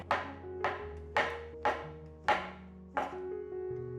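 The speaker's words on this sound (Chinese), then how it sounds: "把鲜香菇的根部切掉，切成片状。 把香菇切片。" A knife slices fresh shiitake mushrooms on a cutting board in six crisp, evenly spaced chops about two-thirds of a second apart, close and clean with nothing else audible.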